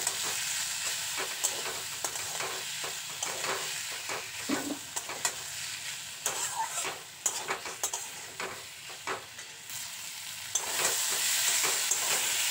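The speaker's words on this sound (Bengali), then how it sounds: "এবার সব কিছুকে একসাথে নেড়ে চেড়ে খুব ভালো করে ভেজে নেব।" Boiled taro stolons (kochur loti) stir-fried with fried spices in a kadai, a continuous oil sizzle under repeated scrapes and clinks of a spatula against the pan, growing louder near the end.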